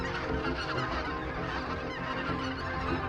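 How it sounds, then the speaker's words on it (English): A flock of geese flies in over a goose hunting spot in northern country, their honking a dense, continuous chorus, fairly loud and filling the air. "Oh, look at the geese coming."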